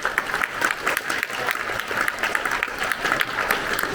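An audience at a sci-fi convention panel claps steadily in dense, continuous applause that stays at an even level throughout.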